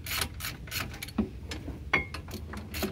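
A ratchet on an 18mm deep socket tightens a caliper bolt during an Akebono front caliper upgrade on a Jeep Grand Cherokee WJ, giving close, rhythmic bursts of clicking strokes with brief pauses and a few sharper metallic knocks.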